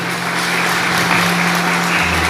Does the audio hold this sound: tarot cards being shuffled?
no